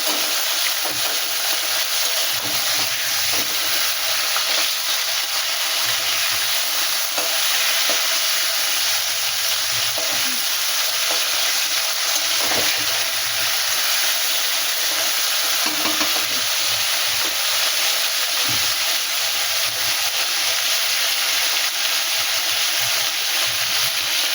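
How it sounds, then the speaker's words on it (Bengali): Loita (Bombay duck) fish frying lightly in a pan, a steady broadband sizzle of hot oil running continuously with scattered crackles and occasional stirring clicks, close and fairly loud, with no talk. "খুব কড়া করে ভাজবো না একটু হালকা হালকা ভাজবো"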